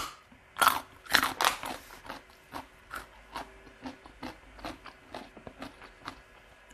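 Crunchy spicy cucumber salad eaten with rice noodles, loud crisp bites up close followed by a steady run of wet rhythmic chewing crunches.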